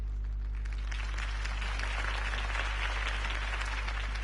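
A crowd applauds after a campaign speech in a Batman video game, a dense, moderately quiet wash of clapping that swells slightly, over a steady low hum.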